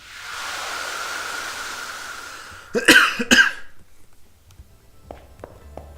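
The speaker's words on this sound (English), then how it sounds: "If I can just stop coughing," After a few seconds of hissing noise, a person coughs twice sharply and close, followed by faint scattered clicks and quiet shuffling.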